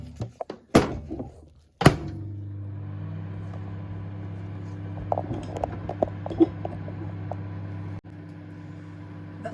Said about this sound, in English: So back in the microwave it goes.